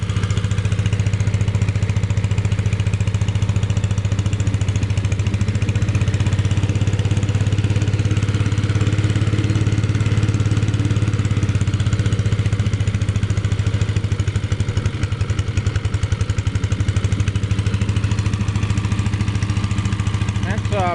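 A small air-cooled Lauson engine on a 1943 WW2 Army Air Corps Stewart Warner ground heater runs at a steady idle, a constant low drone with slight fluctuations throughout.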